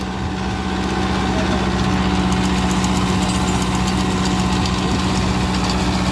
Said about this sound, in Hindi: ट्रैक्टर की आवाज़ सुन सकते हैं आप,